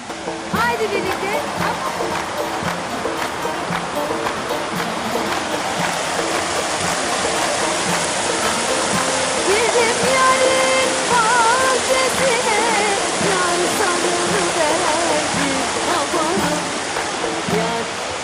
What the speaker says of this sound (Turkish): Biz orada bir suni şelale gibi bir yer var şu karşıda.